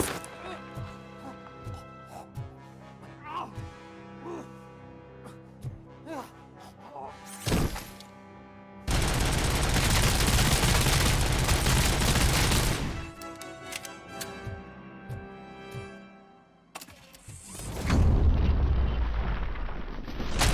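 Weapon fire and explosions in the RoboCop video game, with rapid clicking shots, then a long roaring blast that keeps going for several seconds and a second heavy burst near the end, loud and close.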